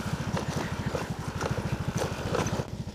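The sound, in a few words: motorcycle engine on a mountain trail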